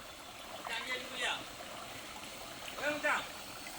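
Steady, faint rush of a mountain stream at Kalakkad Thalaiyanai, running low in May, with voices talking briefly over the continuous flow.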